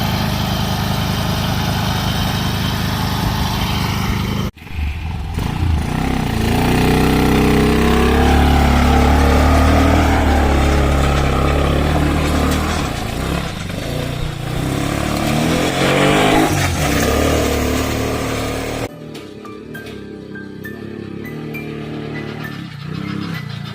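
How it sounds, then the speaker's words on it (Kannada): A farm quad bike engine runs steadily and loudly close by, its throaty chug swelling for a stretch before dropping to a quieter idle near the end. "ಇದು ಫಾರಮ್ ಲ್ಯಾಂಡ್ ಬೈಕ್"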